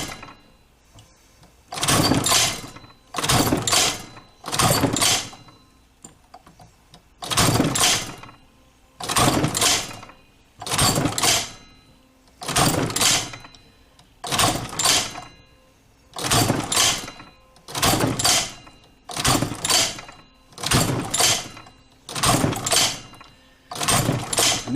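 A leather sewing machine stitches through two to three layers of 8 to 10 ounce leather for a knife sheath, running in about fourteen short, loud mechanical bursts separated by brief quiet pauses, close up and with no talk.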